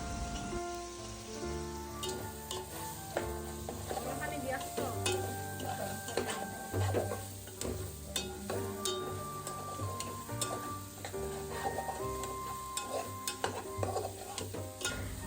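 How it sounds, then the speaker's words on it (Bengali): Vegetables being stir-fried in a pan for a rice-and-lentil dish, with steady sizzling and repeated stirring scrapes over kitchen background music, no talk. "দিয়ে তারপর ভালো মতো সবজিগুলোকে ভেজে নিব"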